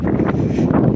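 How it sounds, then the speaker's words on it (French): Gusty wind buffets the microphone at a historic motor racing event at the Laon circuit, a loud, close, continuous rushing roar with no talking. "il y a du vent"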